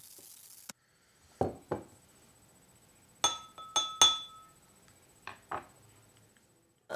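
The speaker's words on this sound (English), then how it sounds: "put a little bit more water in there just so that it could sound just like Laser Gator's musical glass" Water-filled musical glasses struck one after another in a quiet room, giving bright ringing clinks in uneven pairs and clusters, some tones sustaining briefly before fading.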